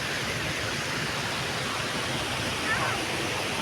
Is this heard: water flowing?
yes